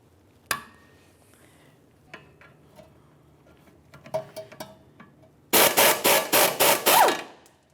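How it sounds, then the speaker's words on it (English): A 15mm wrench works the nut off a rear sway bar link on a 2011-2018 Volvo S60, with scattered close metallic clicks and taps followed by a loud run of rapid ratcheting bursts. "Let's start down along the bottom with a 15mm to remove this nut"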